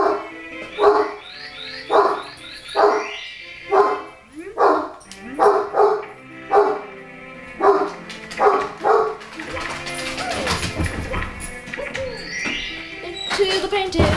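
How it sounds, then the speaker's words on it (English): Dogs barking in Super Mario 64, a regular run of loud, evenly spaced woofs for several seconds, giving way to a denser jumble of game sounds at the end. "Dogs are barking."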